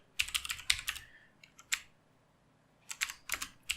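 Quick bursts of clicking keystrokes on a computer keyboard as a Linux command is typed, close-up, with short pauses between clusters of taps and no speech.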